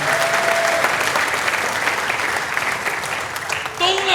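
Church congregation clapping during a Zomi service, a steady burst of applause from many hands that carries on for several seconds, with a voice coming in briefly near the start and again at the end.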